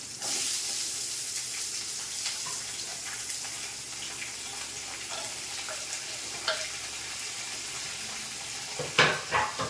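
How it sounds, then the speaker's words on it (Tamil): Onions fry in a pan for a ponnanganni greens stir-fry, giving a steady close sizzle with soft crackles, a few spatula knocks and a louder scrape of stirring near the end, without any talking. "இப்போ வெங்காயத்தை போடுறேன்."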